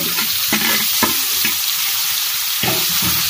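Diced potatoes and chopped tomato with cauliflower frying in oil in a pan, giving a continuous loud sizzle punctuated by several rhythmic scraping stirs of a spatula.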